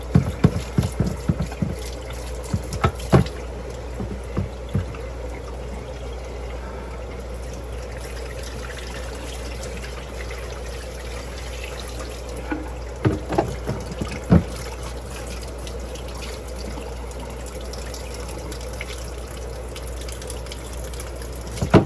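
A net used for hatching shrimp is rinsed in water, with a steady background of trickling and sloshing, scattered splashes and drips, and a few sharper knocks, near and continuous, with no talk.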